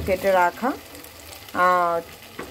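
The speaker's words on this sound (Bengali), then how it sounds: "মশলা বলতে একটু পেঁয়াজ আদা রসুনটাও কষানো হয়ে গেছে। এটাকে আমি আরও কষাবো" An onion, ginger, garlic and tomato masala fries in a pan for a country chicken curry, sizzling steadily at close range, broken by two brief tonal whines.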